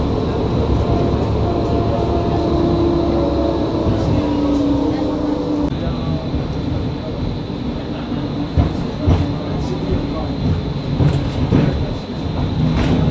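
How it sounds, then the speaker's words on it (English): Train at Zagreb's railway station rumbling steadily close by, with rail clatter and a sustained mechanical drone across the whole span, plus a few sharper knocks in the second half. "This is the train station."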